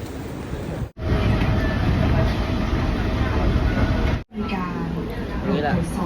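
Steady low rumble of a moving airport train carriage heading to a terminal in London, continuous and fairly loud, with brief dropouts and a voice murmuring underneath.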